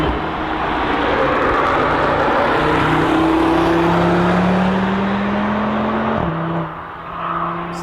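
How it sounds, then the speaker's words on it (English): A 2021–2022 next-generation Audi RS3 with its inline five-cylinder engine droning loudly as the car passes, pitch rising steadily then dropping sharply as the car moves off, with no talking. "the next generation of Audi RS3 right here. We can give it a little bit of a listen"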